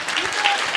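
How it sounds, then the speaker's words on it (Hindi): Audience clapping bursts out briefly and loudly while a voice talks over it. "जो भी ताली बजा रहे हैं"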